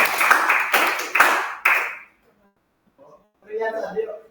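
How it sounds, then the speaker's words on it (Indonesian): A class clapping hands in a brief round of applause in a classroom, several sharp overlapping claps for about two seconds, then quiet before a voice starts speaking. "Tepuk tangan, Fajar."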